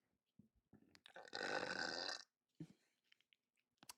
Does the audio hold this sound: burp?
yes